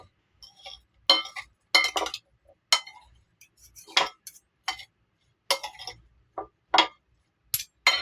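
Tomatoes and onions are stirred in a pan with a utensil, producing sparse, irregular clinks and scrapes spaced through the clip with quiet gaps between them and no talk.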